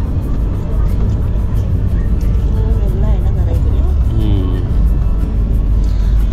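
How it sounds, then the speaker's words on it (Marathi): Car driving along the Kasara route toward Nashik, a loud steady road and engine rumble heard from inside the vehicle, with people talking over it. "अगदी आपली गाडी कसारा रूटने जाते."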